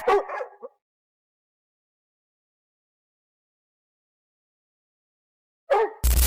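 Hunting dogs that have cornered a wild boar in a dense Scandinavian forest let out two short bursts of barking and yipping, one at the start and one near the end, separated by silence.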